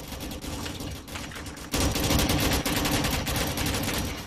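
Gunfire in the Rolling Thunder video game: dense, rapid bursts of shots that rattle on continuously and jump louder midway, with no talking.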